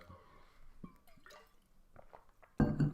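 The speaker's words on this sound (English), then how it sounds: "Let me have a sip of water first" Someone sips water in a few small, quiet wet slurps and drips, ending with a sudden louder clatter near the end, with no talking.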